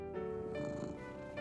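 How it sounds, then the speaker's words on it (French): A cat purrs softly in a short, steady, continuous rumble, heard alone without speech. "Mais il aimait encore plus le doux ronron de son chat Gilbert"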